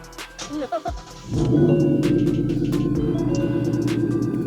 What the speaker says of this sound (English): So we're gonna turn the car on now.